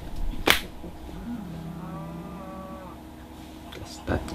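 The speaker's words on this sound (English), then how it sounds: "Cows!" Cattle mooing in the video game Minecraft, a drawn-out bovine moo rising and falling over a couple of seconds, framed by brief sharp noises before and after.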